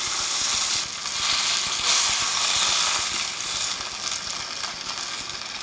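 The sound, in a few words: moose meat sizzling as it's taken out of the pan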